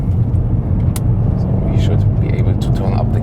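A 2019 BMW M5 engine droning at about 5,000 RPM on a racetrack, a loud, steady, deep rumble heard from inside the car, with someone talking over it throughout.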